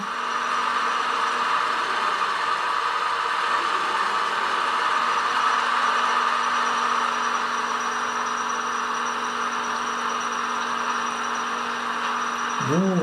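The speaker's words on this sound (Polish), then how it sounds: "I posłuchamy jeszcze sekwencji wyłączenia silnika, funkcja F1." An H0-scale model locomotive sound module runs its engine shutdown sequence, a steady droning engine hum with a constant tonal whine that continues evenly, ending with a brief rising and falling tone.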